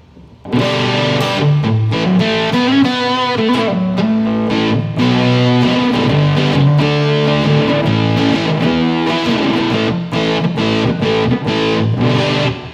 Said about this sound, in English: so there's also the fuzz pedal.